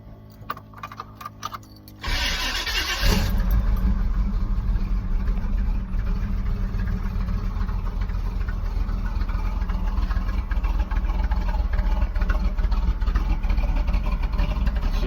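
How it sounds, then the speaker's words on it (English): A 1991 Camaro engine starts cold with recently redone exhaust: a brief cranking burst after some clicks, then a loud, steady low idle rumbling close by for the rest. "But this is gonna be my cold start."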